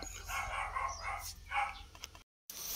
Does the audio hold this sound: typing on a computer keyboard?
no